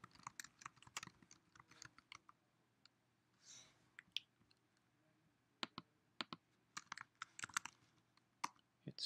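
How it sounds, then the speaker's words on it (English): Close, quiet typing on a computer keyboard in bursts of sharp clicks separated by short pauses, with repeated spacebar presses and no talking. "Hit spacebar too much."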